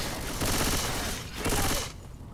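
Rapid automatic gunfire from a zombie shooter video game, loud and close, coming in two dense sustained bursts with a short lull between them, then cutting off into quieter game ambience.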